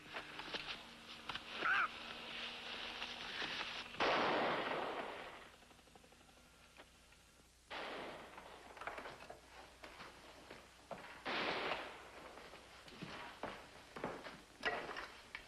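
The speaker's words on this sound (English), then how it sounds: "Just heard gunshots. 3 of them." Three loud gunshots ring out several seconds apart, each a broad blast that fades away, with quiet rumbling between them.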